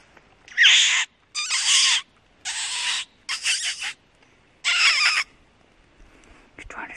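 A person blows a predator call imitating a wounded rabbit, trying to lure a roadside predator: five loud, raspy, squealing bursts about a second each, separated by short pauses, close to the listener.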